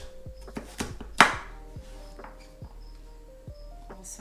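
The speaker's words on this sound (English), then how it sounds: "And then I'm going to cut up some of this zucchini." A knife chops zucchini on a cutting board, about a dozen crisp, separate knocks in an uneven rhythm, one louder strike standing out, close and clear with no talk.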